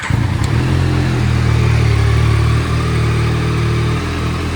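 A 2024 Yamaha Tracer 9 GT+ motorcycle engine catches and settles into a steady, fairly loud idle close by, on its center stand, with a low throbbing rumble that continues to the end.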